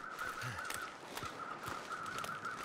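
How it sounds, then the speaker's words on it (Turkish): Crows in the survival video game The Long Dark give several faint, scattered caws. The calls sit over a steady wind-like ambient bed, with no speech. "Bu her yerden karga sesi geliyor ha."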